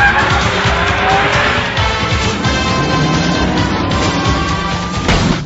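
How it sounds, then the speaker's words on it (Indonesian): A car bursts out of a shipping container and skids, a loud roaring engine with squealing tires and a sustained screech, dense and close from start to finish. "Tiba-tiba polisi dibuat tercengang melihat sebuah mobil terbang keluar dari peti kemas."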